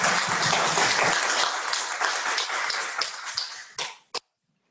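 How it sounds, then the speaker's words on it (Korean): Applause from a seated audience at an AI research center forum, a dense, steady clapping that runs for about four seconds before thinning into a few final claps and cutting to silence. "박수 부탁드립니다"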